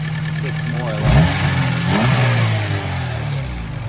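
A 2000 Acura Integra with a B18C1 engine, running with a cooling problem, revs up twice in quick succession, each swell rising from a steady idle and falling back, with a voice talking over the engine.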